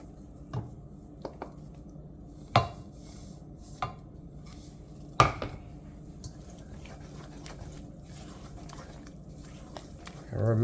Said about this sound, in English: Remember, we are mixing and scraping.